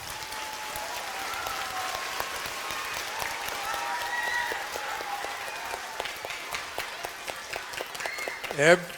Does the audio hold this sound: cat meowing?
no